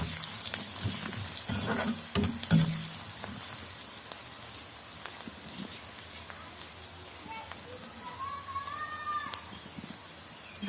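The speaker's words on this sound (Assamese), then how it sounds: "এইখিনি অকণমান সময়ৰ কাৰণে ভাজি ল'ম।" Chopped onions sprinkled with salt fry in a pan with a close, crackling sizzle and a few stirring knocks, while a faint voice is heard near the end.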